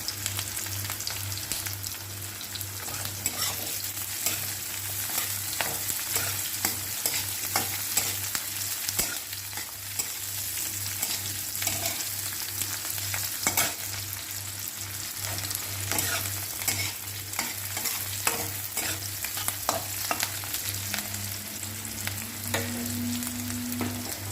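Onions fry in hot mustard oil with dried chili tempering, a dense, even crackling hiss that carries on without pause over a low steady hum, with no voices.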